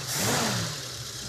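A 1969 Ford Mustang V8, revived after 27 years of rusted neglect, running steady and smooth up close with a low, even engine rumble and a slight rise in revs early on.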